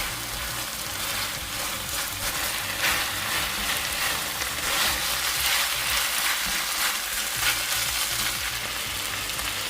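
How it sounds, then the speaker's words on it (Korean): Pork shoulder with Cheongyang chili stir-fries over medium heat, making a soft, continuous sizzle and crackle with occasional stirring scrapes, fairly quiet and with no talking. "청양고추를 넣고 중간불에서 조금 더 볶아줍니다"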